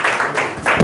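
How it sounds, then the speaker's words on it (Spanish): A church congregation breaking into applause, a brief burst of dense clapping that rises and falls, close and fairly loud. "Vamos a darle un aplauso al Señor por eso"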